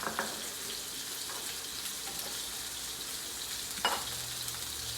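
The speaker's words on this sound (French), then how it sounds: "On va cuire nos pétoncles" Scallops sear in a very hot pan, a steady broadband sizzle running throughout with a couple of brief sharper crackles or clinks, no talking.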